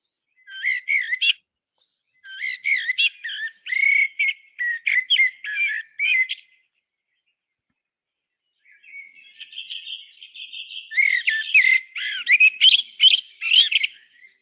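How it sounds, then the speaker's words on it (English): A blackbird sings a whistled, fluting song in two phrases separated by a pause, clear and fairly close with nothing else heard. "if you can hear the whistling of a blackbird, that kind of do-do-do-do-do-do, that whistling sound"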